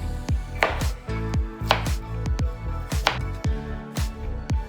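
A knife slices through roasted pineapple on a board, about a dozen crisp cuts in an uneven rhythm, close and fairly quiet, with no talking.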